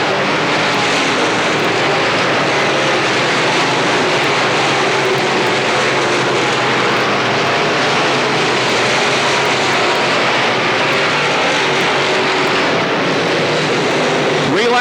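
Limited late model race cars roar around an oval short track in a 1993 feature race, a dense continuous engine drone that never lets up, with an announcer talking over it.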